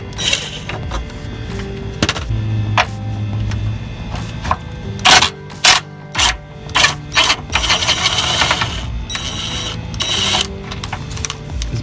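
An impact gun drives bolts on a depowered Honda Civic EK steering rack, firing loud rattling hammer bursts. Several short bursts come close together, with quieter workshop clatter between them.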